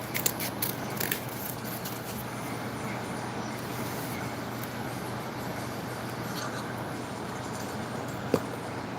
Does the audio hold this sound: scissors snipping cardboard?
yes